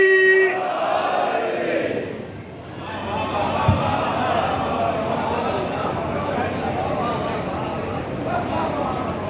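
A crowd at a Shia majlis gathering in Jogipura shouts the religious slogan "Haideri" in unison, a loud, sustained mass roar with no separate speech over it.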